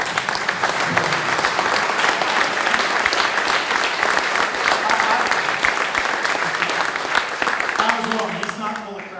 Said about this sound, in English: I just want everybody to give him a round of applause.